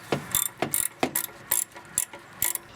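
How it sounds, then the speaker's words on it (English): A ratchet loosens a 10 mm bolt on the tensioner of an 8th-generation Honda Civic EX, giving six quick clicking strokes in a steady rhythm, close and clear with no talk. "Let's get that bolt out."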